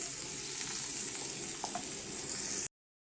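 Chicken fry with coriander sizzling steadily in a pan, a constant bright frying hiss that carries evenly throughout before cutting off abruptly, with faint stirring clicks and no talk.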